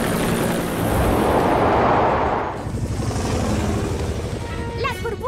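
A loud rushing whoosh of cartoon helicopter rotors blowing steadily, fading slightly before a short voice-like chirp at the end.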